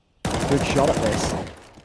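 Rapid M4 rifle fire in Counter-Strike 2 at a Major Copenhagen 2024 match, a dense burst of shots lasting about a second and a half, loud and close, with a caster's voice underneath.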